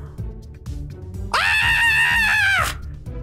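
A character in the Kindergarten video game lets out a loud, sustained high scream lasting over a second, rising sharply out of quieter background game music and cutting off abruptly.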